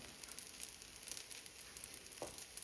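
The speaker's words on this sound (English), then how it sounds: "Got both our slices in there. And let that toast up for maybe about a minute." Two bread slices toasting in a hot pan for a breakfast sandwich give off a faint, steady sizzle with a soft, brief scrape near the end, with no talking.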